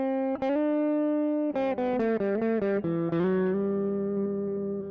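Electric guitar played through a Walrus Audio Melee distortion and reverb pedal set clean: a single chord, then a run of picked notes and chords ringing out into a sustained tail, loud and alone.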